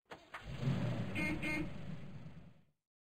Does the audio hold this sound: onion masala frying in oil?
no